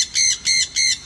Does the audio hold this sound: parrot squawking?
yes